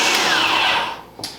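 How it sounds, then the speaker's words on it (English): A food processor whirs loudly while chopping almonds for almond butter, grinding continuously before the motor cuts out near the end and leaves a brief rattle. "But we're doing it in the food processor because I don't feel like challenging my blender"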